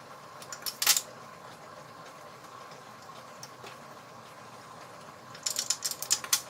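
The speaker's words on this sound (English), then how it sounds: "take the other 4 screws and screw it down tightly" Screws are tightened into the lens housing of a FireFly 6S camera, giving faint ticking ratchet-like clicks in short clusters near the start and end over quiet background hiss.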